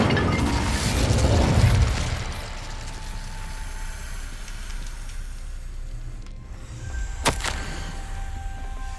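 An Incendio fire spell in the Hogwarts Legacy video game lands with a loud booming burst at the start, then fades into a low rumble and quiet ambience, with a sharp pop near the end.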